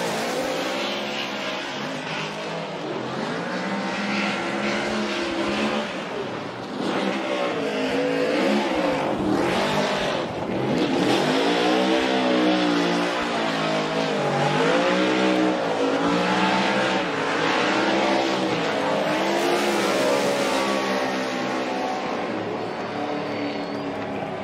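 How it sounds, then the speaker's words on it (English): The Pennzoil Ford Mustang RTR Spec 5D drift car at a competition revs hard and repeatedly, its loud engine note swooping up and down in rapid bursts, with a brief dip midway and tire noise under the sustained engine howl. "listen to the loud, proud Ford Mustang of Chelsea DeNova"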